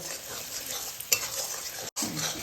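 Spice mixture with salt stir-fried slowly in an oil-filled pan for a cauliflower-potato curry, a continuous close sizzle with soft scraping stirs and one brief clink of a spoon.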